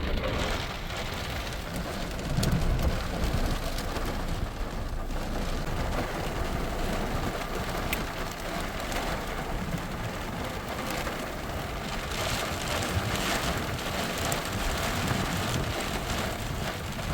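Steady rain falls across a farm with growing corn during a thunderstorm, a dense continuous hiss of drops on surfaces at moderate level with no talking.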